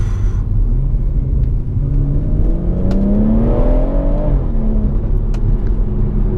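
A BMW M140i with an M Performance exhaust pulls away, heard from the cabin as a loud, deep engine rumble. The engine note rises steadily as it accelerates through the revs, then eases back briefly before building again, with no talk.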